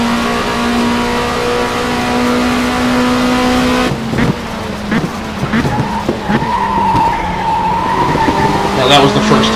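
A touring race car in the WTCC racing game Race 07 drones at steady engine pitch, then brakes hard, its tires squealing and skidding repeatedly in loud wavering screeches.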